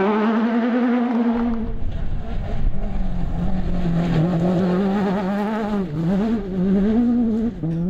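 Rivet Honda rally car racing at a French rally, its engine loud and close with a continuous rising and falling drone that shifts pitch through gear changes and throttle, running throughout with no speech.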